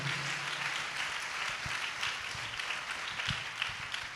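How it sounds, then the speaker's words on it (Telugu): A church congregation claps hands together, a faint, distant, steady patter of applause with a few sharper thumps and a murmur beneath. "చప్పట్లు కొట్టి దేవుని మహిమపరుద్దాం గట్టిగా."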